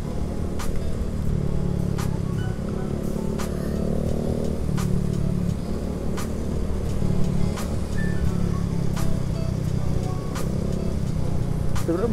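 A motorcycle threads through moderate city traffic, its engine droning steadily and rising at times with throttle, mixed with surrounding vehicle noise and wind, heard from the rider's position.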